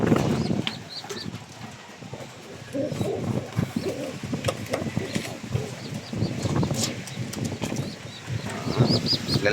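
Pigeons coo repeatedly at close range, with a mother bird guarding her young, their soft throaty calls overlapping with light rustling and flutters.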